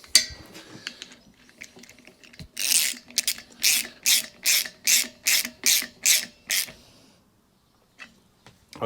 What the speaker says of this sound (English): I've got my 13mm socket. Just going to put that on and just want to nick that up.